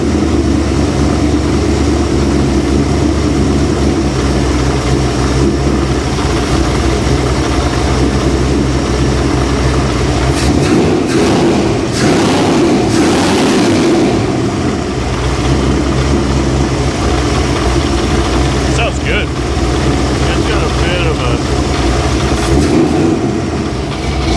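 A car engine runs on after starting, settling into a loud, continuous idle rumble that stays close and steady, with a brief rougher, brighter stretch midway and no voices.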